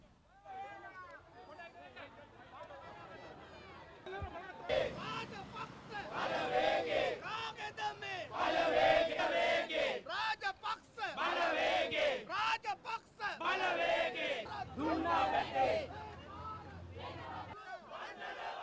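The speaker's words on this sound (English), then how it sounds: "They shouted slogans expressing support to the President" A huge crowd at a presidential election rally in Sri Lanka shouts slogans in rhythmic, swelling waves, loud and dense, following a quieter stretch of murmuring.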